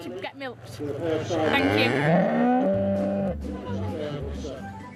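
Cows on a farm moo loudly at milking time, long drawn-out calls that overlap one another over a low background murmur of other animals.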